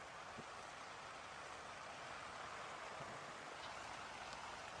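Monsoon rain falls at a hillside camping spot as a steady, faint hiss with occasional soft drop ticks and no voices.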